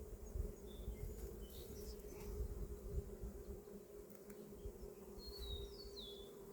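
Honey bees in a hive opened for a first spring inspection, a steady low droning hum running throughout with a few faint high chirps over it and no talking.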